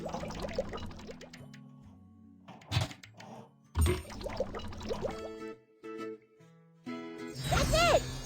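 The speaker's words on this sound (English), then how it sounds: "Pour engine fluid by color into tanks." Engine fluid is poured by color into tanks while repairing an excavator in a video game, heard as cartoonish liquid glugs, thunks and drips between chiming musical tones and short bursts of game effects.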